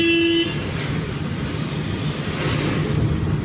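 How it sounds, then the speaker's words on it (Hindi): Car horn giving a short honk at the start during a driving lesson on a rainy road, followed by steady engine and road noise from inside the moving car. "हॉर्न दीजिए"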